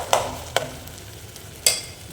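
A few sharp spoon-and-pan scrapes, spaced irregularly, while kadappa gravy is stirred and fried in a pan, with a faint sizzle underneath.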